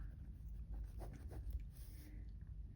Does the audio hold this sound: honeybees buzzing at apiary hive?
no